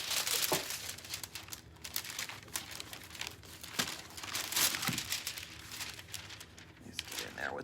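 Aluminum foil crinkling and crackling as it is pressed by hand onto a wooden birdhouse, with irregular crisp rustles running throughout under nearby talking.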